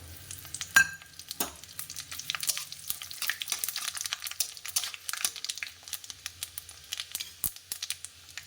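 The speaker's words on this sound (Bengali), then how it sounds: "তেলের ওপর শুকনো লঙ্কা দিয়ে দিয়েছি, ওপর থেকে এই যে 5 ফোড়ন আর তেজপাতা দিয়ে দিলাম" Dry red chilies, panch phoron and bay leaf crackle and sizzle in hot oil for a raw mango pickle, with a steady soft frying hiss scattered with sharp little pops and one louder crack near the start.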